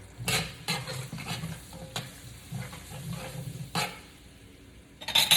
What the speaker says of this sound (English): As you can hear, it's starting to cook.